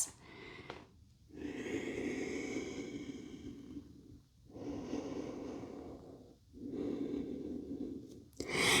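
Deep, heavy breaths after a strenuous upper-body workout, three long slow inhale-exhale cycles with audible airy rushes and brief pauses between, close and clear with no talking.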